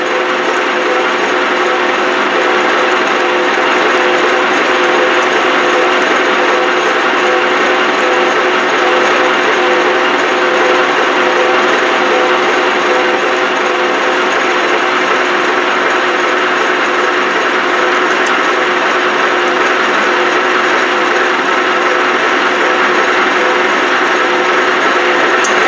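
Steady, loud mechanical whirring of an Ajax milling machine center drilling metal, continuous and unchanging throughout with a dense grinding texture.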